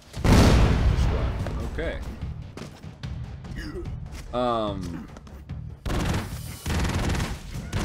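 Rapid bursts of gunfire and booming blasts from the side-scrolling action video game Broforce, loud and dense, broken by short gaps and a few electronic effect tones, with someone speaking briefly.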